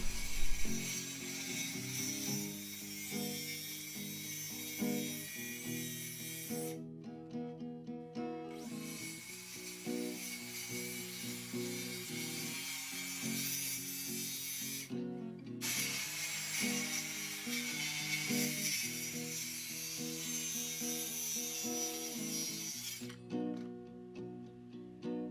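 An old, rusty hand saw cuts the corners of homemade wooden steps. Rasping back-and-forth strokes run in three long bursts separated by short pauses, close and alone without speech.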